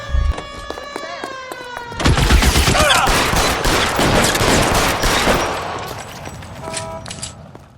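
Gunfire in the video game L.A. Noire during a car chase, a loud burst of repeated shots over engine noise and tonal sirens or horns, fading out toward the end.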